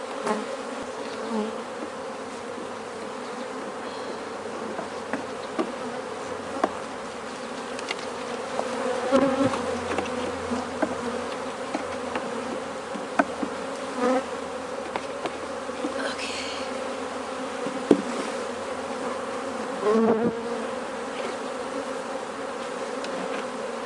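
Honeybees buzzing steadily around an open beehive, a continuous close drone with small shifts in pitch and a few louder passes throughout.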